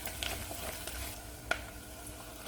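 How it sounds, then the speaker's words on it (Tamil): Onions and curry leaves sauté in hot oil in a pan for Chettinad kara kuzhambu, a quiet, close sizzle with soft stirring scrapes and one sharp clink of a utensil against the pan, with no one talking. "வெங்காயம் சேர்த்து செவக்க வதக்கணும் கருவேப்பிலை சேர்த்து வதக்கலாம்"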